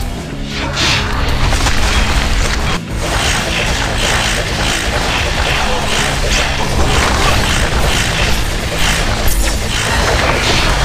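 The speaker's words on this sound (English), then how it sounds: "The Legion have destroyed a Hellborn tower." A Hellborn tower collapses in the video game Heroes of Newerth, a loud, dense rumble of booms and crashing debris that carries on steadily, with a short dip near the middle.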